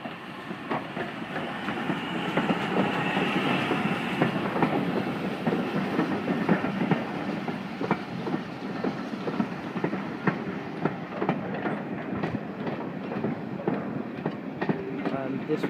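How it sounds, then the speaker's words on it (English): A Great Western Railway 5600 class tank steam locomotive, number 6695, passes near the sidings at Corfe Castle on the Swanage Railway, with a loud continuous rumble and a steady clickety-clack of wheels over rail joints. "So this is a Great Western Railway 5600, or Taffy tank as they're known as"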